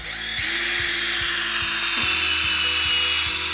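A power drill whines steadily as it bores a tap hole about an inch and a half deep into a hard sugar maple trunk, with a close, continuous motor pitch and rhythmic low pulses, no voices.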